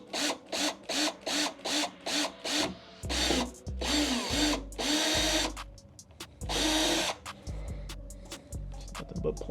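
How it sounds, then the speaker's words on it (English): A drill bores a 1/8 inch hole into a plastic Ford Focus spoiler in short repeated bursts of whirring, close and fairly loud, with brief pauses between pulses. "Just drilling right into my spoiler"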